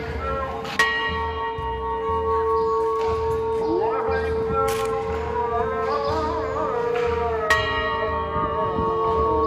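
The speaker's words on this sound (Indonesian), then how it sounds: "terdengar lonceng gereja berdentang" Church bells ring out steadily in Batumi, Georgia, with a rich, sustained resonance, a couple of sharper strikes standing out over a continuous outdoor background.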